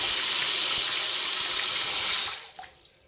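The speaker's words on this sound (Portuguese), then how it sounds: "Olha o tempo que ela está demorando para esgotar a água da pia" Water running into a clogged kitchen sink, a steady loud broadband rush of tap flow that cuts off after about two seconds, leaving quiet faint drips and trickles as it slowly drains.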